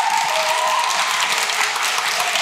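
Steady applause from a debating society audience greeting an opposition speaker at the Cambridge Union, a dense wash of clapping at constant level throughout with no voices over it.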